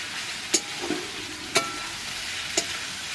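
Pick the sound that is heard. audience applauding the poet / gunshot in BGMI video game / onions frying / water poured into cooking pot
onions frying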